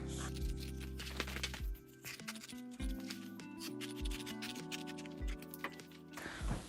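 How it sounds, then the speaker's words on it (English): Scissors snip through old denim jeans, cutting down a leg along the inside seam: a run of close, crisp crunching cuts and blade clicks with short pauses, with no talking. "So just keep the cut as close to the seam as you can and cut it all the way down to open the leg out."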